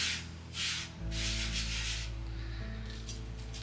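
Flour is scraped and rubbed by hand onto a pizza peel in a home kitchen, a close, dry rasping that comes in several strokes over a low steady hum.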